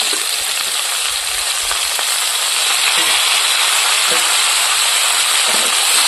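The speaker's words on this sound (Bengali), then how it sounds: "এবার একসাথে সব ভালো করে কষিয়ে নেব" Steady loud sizzling and hissing as fried crabs with turmeric, chilli and salt are sautéed together in a pan, a continuous frying noise with faint scraping throughout.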